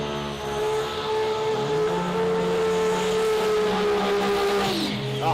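A sports compact drag racing car skids at a drag strip finals event, a loud sustained engine drone with a rising tire screech layered over it, close and continuous for several seconds.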